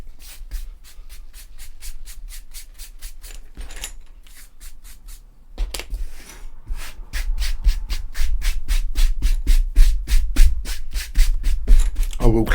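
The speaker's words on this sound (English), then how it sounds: "Sweep this mess up." Brush sweeping up a mess of salt and debris, rapid rhythmic scratchy strokes that pause briefly and then resume faster and louder, close by with no talking.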